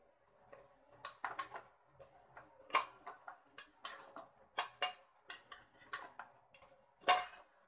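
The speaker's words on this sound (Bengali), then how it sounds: "তো আমি একটা একটা করে সব বড়াগুলোই উঠিয়ে নিব" Fried red lentil fritters lifted one by one from a pan with a metal utensil, producing a series of distinct clinks and scrapes at irregular intervals, close and quiet, with one louder clatter near the end and no speech.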